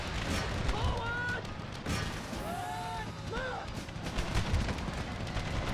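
Musket volleys and artillery fire from an American Civil War battle against Stonewall Jackson in Empire: Total War with the Brothers vs. Brothers mod, a dense continuous battle din with scattered shouts and bugle-like tones rising above it.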